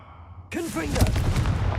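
A Confringo fire spell goes off in Hogwarts Legacy with a sudden loud, booming burst that rolls on with crackling debris, as a voice shouts at the moment of the blast.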